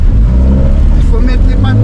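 A car engine revs steadily and loudly under throttle, a low droning rumble that holds through the whole moment, with people talking over it.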